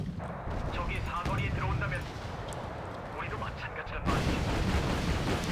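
Explosions from a B5 bomber strike in the video game Wargame Red Dragon: heavy, rumbling blasts and bursts of artillery-like booms, with a voice talking over them throughout.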